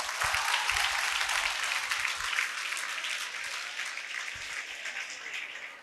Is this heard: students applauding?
yes